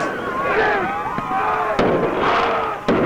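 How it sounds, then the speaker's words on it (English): New Year's Eve fireworks pop and burst in the distance, a few sharp cracks standing out over a steady rumbling crackle. "Oh no, those aren't gunshots. Those are fireworks because it's December 31st."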